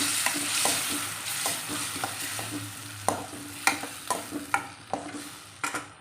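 Tamarind water frying in a pan for bisi bele bath, a steady sizzle with repeated sharp clicks and scrapes of a spoon stirring against the pan, close and fairly loud, with no talking.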